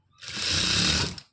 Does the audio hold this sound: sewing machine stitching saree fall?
yes